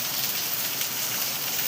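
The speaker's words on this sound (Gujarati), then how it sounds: "વરસાદ આવી ગયો" Steady rain pours down on surfaces, a dense, continuous hiss of drops that holds even and loud throughout, with no voices.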